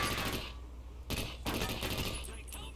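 Gunfire in the tactical shooter Takedown: Red Sabre, a few rapid bursts of close, loud shots separated by short pauses, with game mechanism clicks between them.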